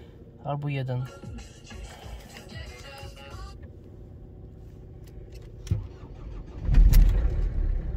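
A car engine starts at about zero degrees in frosty weather, cranking briefly and then catching into a rough idle, after a short burst of speech near the start.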